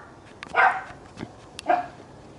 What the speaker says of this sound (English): When another dog goes in the neighbourhood, another one barks. Typical schnauzers